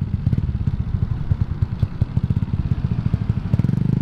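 A Suzuki Raider J115 Fi motorcycle, fitted with a 57mm 8-hole injector, runs close by with a rapid, throbbing, uneven engine putter and slight clatter, steady throughout with no talking.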